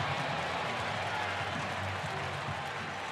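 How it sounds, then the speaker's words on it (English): A baseball crowd at Kauffman Stadium reacts and applauds during a Red Sox at Royals game, a steady dense roar of clapping and cheering that stays loud and fills the whole moment with no one speaking over it. "Crowd reacting here at Kauffman Stadium."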